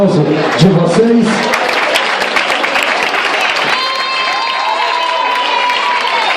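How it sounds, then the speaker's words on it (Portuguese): Audience applause and cheering at a professional-category dance championship qualifier as couples leave the floor, dense crowd clapping under an announcer's voice, then fading into a thinner patter with whistles near the end. "Obrigado aos casais que deixam a pista agora com o aplauso de vocês."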